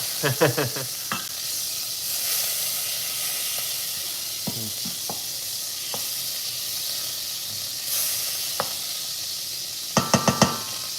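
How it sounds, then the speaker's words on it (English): Butter melting and sizzling in a hot pan, a steady close hiss with a few clattering knocks of utensils and a burst of taps near the end, no talk. "we're gonna let the butter melt here for a few minutes"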